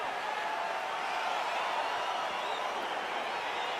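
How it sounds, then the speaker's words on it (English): Crowd at a UFC fight making a steady, broad roar of excited cheering as the bout gets underway, sustained and fairly even throughout without clear individual voices. "crowd getting excited as this fight gets underway"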